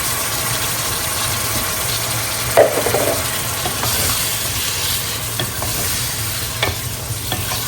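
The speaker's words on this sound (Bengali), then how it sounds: "আগে একটু কষাই নিই।" Vegetables for oats khichuri, including cauliflower, sauté in a pan with a steady, close frying sizzle and occasional stirring scrapes and clinks, continuing alone without talk.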